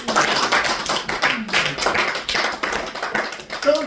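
A church congregation at an Easter service applauding, a dense steady patter of many hands clapping together, continuous and fairly loud for the whole stretch.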